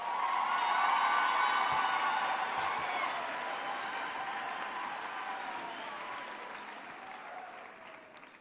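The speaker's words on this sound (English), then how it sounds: "there's nothing wrong with giving yourselves a big round of applause" A large audience at a university graduation ceremony for the Faculty of Education breaks into sustained applause, dense and even, with a brief whistle early on, slowly tapering off over several seconds.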